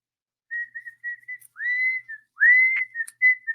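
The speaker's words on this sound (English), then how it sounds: "I love to whistle." A person whistles a short melodic tune alone, a run of clear notes with a few rising slides, close and fairly loud with brief pauses between phrases.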